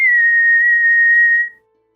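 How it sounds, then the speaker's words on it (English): A bosun's whistle sounds aboard a ship at sea as part of a tabletop fantasy game scene: one steady, piercing high whistle held for about a second and a half, then cut off, with no talk over it. "the bosun's whistle from up above sounds off"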